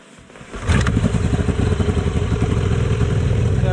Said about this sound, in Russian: Вот так и заводим теперь мотор.